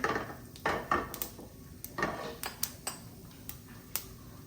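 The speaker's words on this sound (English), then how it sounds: "So now we're gonna add the urad dal and chana dal" Urad dal and chana dal drop into a pan while cooking lemon rice, giving a scattered run of sharp clicks and ticks, closely spaced at first and then sparser, with no talking.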